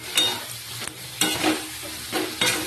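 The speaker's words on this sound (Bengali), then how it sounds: "দিয়ে আবারও কিন্তু ভালো করে নেড়ে চিড়ে কষাতে হবে 5 থেকে 6 মিনিট" Chicken and potatoes are stirred and fried in a pan for a light chicken curry: close, scraping stir strokes come in several distinct bursts over a steady oil sizzle, with no voices.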